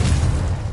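The Confringo explosive spell from the Hogwarts Legacy video game goes off as one loud, deep, booming blast that fills the moment, close and heavy.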